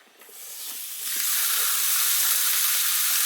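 Sirloin steaks seasoned with salt, pepper and garlic hit a very hot dry pan with salt in the bottom, breaking into a loud, steady sizzle that swells after the first second and holds continuously, with no talking.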